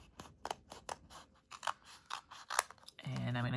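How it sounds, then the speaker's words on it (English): Crisp scissor snips close by, in a quick irregular series of sharp cuts through stiff glossy sticker paper, ending in a steady buzzing hum. "So let's get my scissors. I'm going to cut them down."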